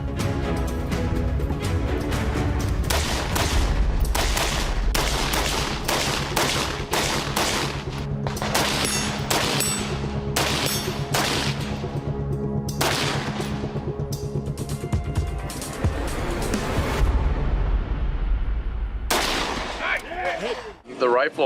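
Rapid rifle shots from a gun fitted with a Rage muzzle brake adapter, loud sharp cracks fired in quick strings with brief pauses, ringing echoes and a final tail of rumble.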